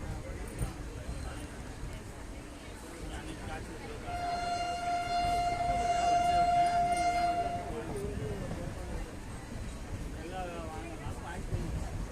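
A long steady train horn sounds for several seconds amid rumbling rail noise near a village outside Madurai, Tamil Nadu, with someone talking before and after.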